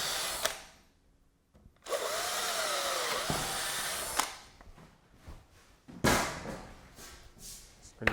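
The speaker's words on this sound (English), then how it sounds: "The reason I pre-drill through the artificial wood" Power drill bores a pilot hole through artificial driftwood for a largemouth bass skin mount, in two sustained whirring bursts with brief pauses and a fainter third burst near the end, close and fairly loud.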